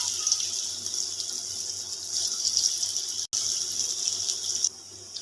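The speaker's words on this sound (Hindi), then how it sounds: "हाथ की मदद से हम इसमें पकोड़े डालेंगे।" Moong dal pakoras fry in hot oil, giving a steady, close hiss and bubbling with a brief break near the end, and no talk over it.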